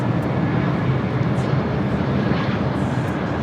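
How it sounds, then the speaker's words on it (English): Heavy airliner taking off at LAX, a steady, broad jet roar that stays loud and even throughout, heard from a distance. "A couple of heavy takeoffs on the south side"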